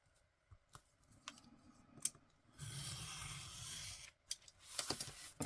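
Cutting an 8.5 by 11 inch sheet of paper at a craft table, a few scattered clicks and taps, then a long steady slicing rasp, a short pause and a second cutting pass, close and fairly quiet.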